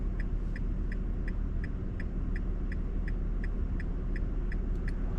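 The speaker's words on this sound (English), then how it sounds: "So we're gonna get on the road here," Steady low road rumble and engine hum inside a 2024 Nissan Frontier Pro-4X truck driving toward town, with a faint, evenly spaced ticking running through it, continuous and moderately loud with no voices.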